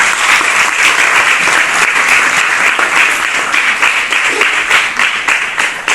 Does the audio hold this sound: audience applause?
yes